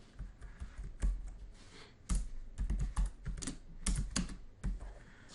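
A computer keyboard being typed on in short irregular bursts of clicky keystrokes, close and fairly quiet, with pauses between bursts and no talking.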